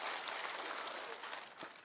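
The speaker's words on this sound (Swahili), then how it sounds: "Mpigieni makofi mazuri jameni." Audience clapping at an outdoor police security forum in Kisii County, a steady, faint wash of many hands applauding together from a distance, without pause for under two seconds.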